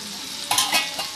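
Ginger paste frying in oil for chicken pachadi gives a few quick sizzling bursts with a spoon stirring in the pan, close and moderately loud over a quiet background.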